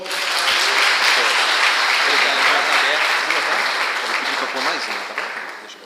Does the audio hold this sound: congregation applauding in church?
yes